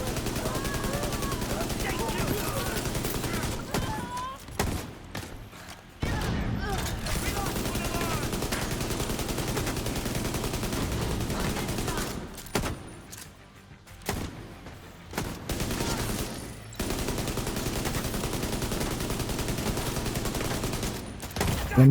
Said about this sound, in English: MGs of all factions always hurt the most